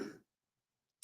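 A single short cough during a live stream is followed by near silence and a faint click at the very end.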